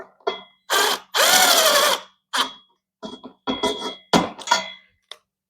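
A power drill drives screws into an upholstered bed frame in short bursts, one long whirring run among several brief trigger pulls and scattered tool clicks, close and loud.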